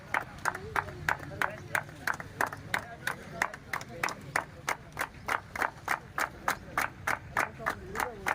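People clap in steady, even unison for runners at an event, a close rhythmic beat of sharp claps repeating throughout with voices underneath.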